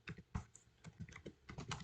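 Rapid, uneven keystrokes on a computer keyboard while C++ code is being written, close and crisp, with irregular bursts of clicks and no voices.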